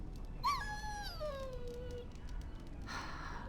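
A dog whimpering in Dragon Age: Origins, one high falling whine that trails off, then a short breathy sound, close and fairly quiet, with no talk.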